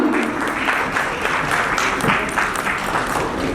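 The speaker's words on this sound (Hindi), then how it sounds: "भाई जब भगवान जी का नाम लिया जाता है तो तालियां भी जोरदार होनी चाहिए।" Loud, steady clapping from an audience at an event in Bhilai-Durg, a dense patter of many hands with scattered voices mixed in, holding strong for several seconds.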